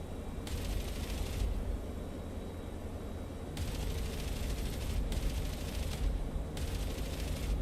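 Gunfire in a WWII P-47D fighter combat flight game comes as several rapid, crackling bursts separated by short gaps, over a steady low engine drone.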